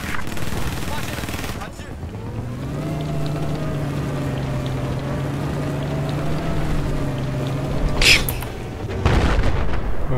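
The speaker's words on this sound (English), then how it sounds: "Oh, lovely boat noise" A droning boat motor in Battlefield 4 hums steadily at mid distance, with a sharp bang near the end and game-like background noise.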